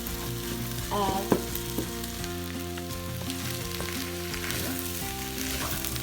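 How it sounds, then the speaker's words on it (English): Shrimp noodles with scrambled eggs and chili paste stir-fry in a hot pan, a steady close sizzle with occasional scraping and tossing sounds from the spatula, no talking. "now we are mixing everything together after the eggs have kind of cooked"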